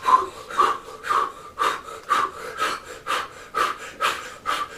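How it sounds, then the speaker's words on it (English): Breath of fire, a yoga breathing technique of fast, forceful breaths: about ten sharp, even exhalations in a steady rhythm, loud and close, with no talking. "In yoga, they have a technique called the breath of fire"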